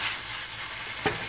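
Shrimp in a yogurt and sriracha sauce sizzles steadily in a frying pan, with one brief scrape of a stirring utensil near the end.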